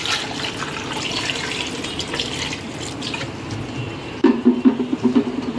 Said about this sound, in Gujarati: હવે પાણી નાખી દેવાનું આપણે.